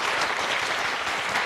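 A studio audience claps on a televised job-hunting variety show, giving a short burst of loud, even applause throughout.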